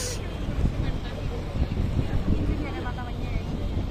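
A motor launch cruises along a river in Assam, its steady low engine drone and rushing water running throughout, with wind buffeting the microphone and a voice talking over it.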